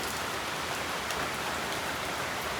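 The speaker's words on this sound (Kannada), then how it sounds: "ಒಟ್ರಾಸಿ ಮಳೆ ಉಂಟು." Heavy rain pours down steadily, a dense, even hiss of drops with no pauses and no voices.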